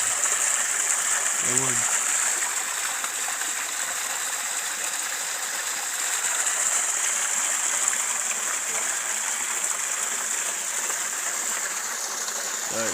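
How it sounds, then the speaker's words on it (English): Water rushes steadily out of a deep cave, a continuous loud gushing roar that fills the whole stretch, with someone speaking briefly near the start. "See that cave, water come out of the cave."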